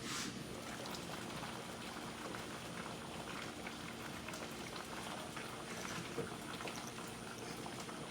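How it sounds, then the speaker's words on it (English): Steady bubbling and hissing of water boiling in a pot, a constant rolling simmer with no voices. "I hear my water boiling."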